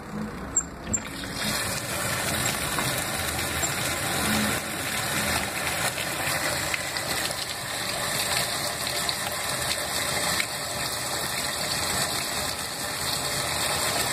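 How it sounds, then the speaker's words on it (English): A washing machine fills with water and fabric softener for its final rinse, giving a steady, continuous rushing hiss with faint mechanical whirring and no voices. "And there it goes, filling for the final rinse with fabric softener."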